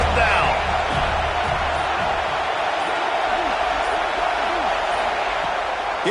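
Stadium crowd noise in a college football video game, a constant loud roar of the crowd filling the background, with a commentator's voice talking over it.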